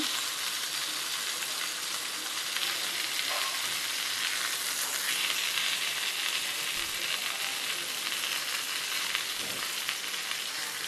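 Rawas fish fillets fry in a pan of hot oil, giving a steady close-up sizzle and crackle that runs evenly throughout with no talking.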